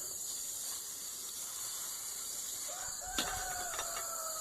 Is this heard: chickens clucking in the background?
yes